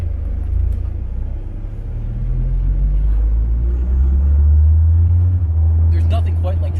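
A 29-year-old first-generation Dodge Viper RT10 with only 3,000 original miles drives with its open top, a loud steady low engine drone and road rumble that swells midway, with a few faint clicks near the end.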